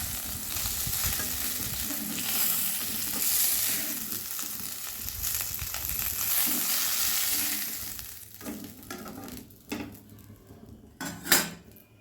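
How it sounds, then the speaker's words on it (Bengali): Shol fish frying in hot oil: a loud continuous sizzle with stirring, then the sizzle fades as the pieces are lifted out, leaving a few sharp clinks of utensil against pan. "পুরো মাছগুলো আমার ভাজা হয়ে গেছে। এবার আমি তুলে নিচ্ছি।"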